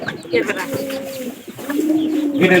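Domestic pigeons coo in low, throaty repeated calls close by, with some background noise and faint chirps.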